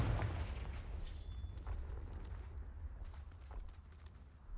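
A Confringo fire spell explodes in Hogwarts Legacy, a deep rumbling boom with a sharp burst at the start that settles into a sustained low roar and crackle.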